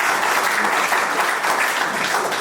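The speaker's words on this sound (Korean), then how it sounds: "다시 한번 여러분 박수 한번 부탁드리도록 하겠습니다." Applause fills a hall at a Korean event for small business owners: continuous, dense clapping from the audience, loud and close, with no break.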